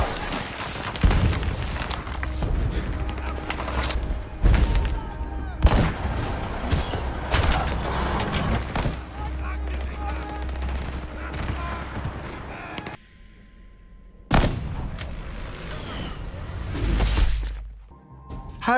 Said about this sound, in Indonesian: Tembakan pertama berhasil mengenai kaca jendelanya.